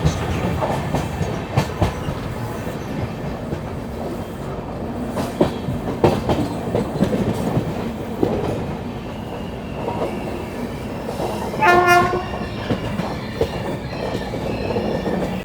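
Simhadri Express train 17239 runs at speed, heard from on board: a steady rumble with rhythmic clickety-clack of wheels over rail joints and a brief, sharp, tonal horn blast late on.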